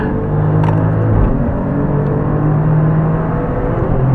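Heavy car engine rumble and whir from inside a hot-lap car on the Las Vegas F1 track as a McLaren race car closes in behind, a steady loud drone with a brief surge near the start.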